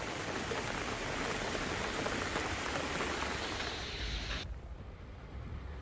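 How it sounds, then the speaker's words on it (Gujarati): Heavy monsoon rain pours steadily in Aravalli district, a dense, loud, continuous hiss that drops off abruptly near the end, leaving a quieter wash of rain. "વરલ, ભાખલ, દેવગણા સહિતના વિસ્તારમાં ધોધમાર વરસાદ પડ્યો"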